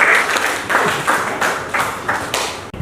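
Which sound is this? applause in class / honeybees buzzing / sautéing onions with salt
applause in class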